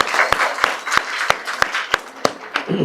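Sharp, evenly spaced claps ring out about three times a second at an outdoor Sankranti celebration, with a voice speaking between and under them.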